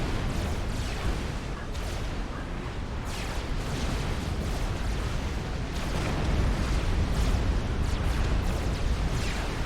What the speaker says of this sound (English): taking some fire from the Oblivion turret up there